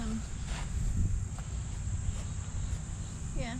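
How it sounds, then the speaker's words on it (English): A cricket chirps in repeated high, thin pulses against steady outdoor background noise, with faint movement nearby. "I don't even see the cricket."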